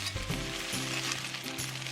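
Pan-fried chicken wings tossed back into a hot wok with garlic and spices, giving a close, continuous sizzle with a faint scrape of stirring beneath it.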